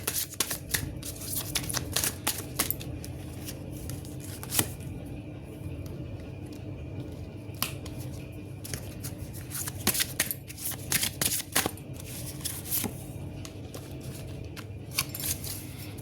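Tarot cards being shuffled and handled, with repeated crisp riffling and tapping bursts scattered through a steady quiet room background, close and fairly soft, no voices present.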